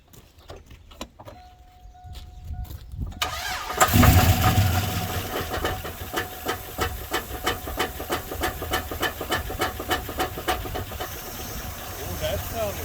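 A 2002 Chevy Silverado with a 5.3 engine cranks briefly, then fires and settles into a steady, close idle with a rhythmic ticking knock over the running engine. Preceded by a moment of quiet.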